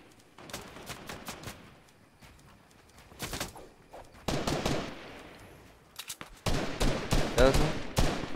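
Rapid bursts of Fortnite gunfire crackle in uneven volleys, some faint and some louder and closer, with muffled movement between them.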